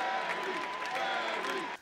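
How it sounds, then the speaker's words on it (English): Mourners at Marion Barry's funeral, a service that doubled as a rally, give a sustained ovation, a steady roar of clapping and crowd noise that holds at one level before dropping off at the end. "Stand on your feet and give Marion Barry a rousing hand of applause"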